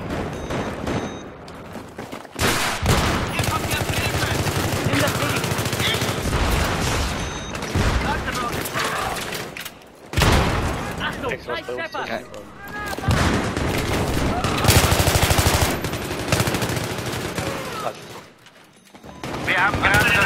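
Loud, dense gunfire and explosions from a Battlefield Conquest match on Grand Bazar, volleys and automatic bursts rolling almost continuously, with players talking over the shooting.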